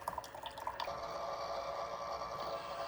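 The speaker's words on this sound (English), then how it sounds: "it's running the vinegar and water through." Vinegar and water solution running through a Chulux K-Cup single-serve coffee maker during descaling, a few drips at first and then a steady continuous stream trickling and gurgling into a cup, no talk.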